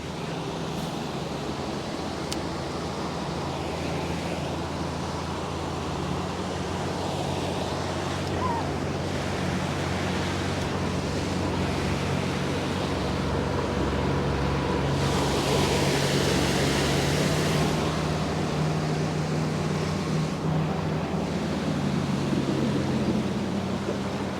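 Shallow water by a downed tree laps and washes steadily during a fishing cast, a continuous broadband wash with a slight wind rush, no speech, moderate and close throughout.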